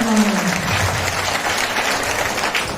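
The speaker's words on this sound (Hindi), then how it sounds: "दोनों हाथ खड़े कर लो और दोनों हाथ से तालियां बजा दो।" A group of women at a celebration gathering clap with both hands in dense, sustained applause that continues throughout, with a voice speaking over the start.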